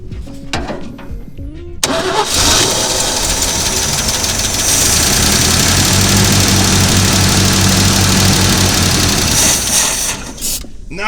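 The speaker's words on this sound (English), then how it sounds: "We haven't even heard this thing fire off once." A GMC K20 truck engine cranks, then catches and runs with a loud, rough, close roar that holds for several seconds before easing off; voices can be heard around it.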